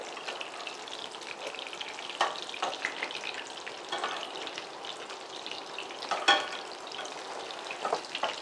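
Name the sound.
sesame-coated prawns frying in a pan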